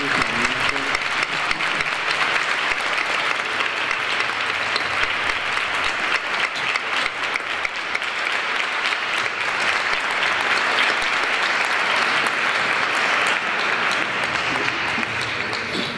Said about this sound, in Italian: farei un grande applauso di ringraziamento a Luigi Serafini.